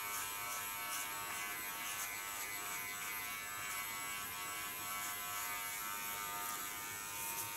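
An electric hair clipper held flat against a head while shaving it down, producing a continuous bright, high-pitched buzz that stays even and unbroken from start to finish, close to the microphone.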